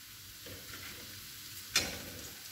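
Shredded cabbage with chopped garlic sizzles in hot oil in a pan, a close continuous frying hiss with a sharp clink of a utensil partway through.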